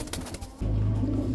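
Desi pigeons, top-quality domestic birds kept for sale, give a short close coo. A brief flutter comes first, then a sustained low cooing note, with no one talking.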